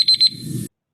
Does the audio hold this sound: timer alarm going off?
yes